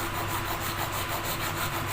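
A tool is scraped back and forth to cut a groove into a small part during a small electric fan repair, giving a steady, close, continuous rasping rub with no talk.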